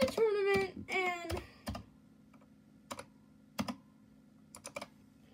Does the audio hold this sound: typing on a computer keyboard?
yes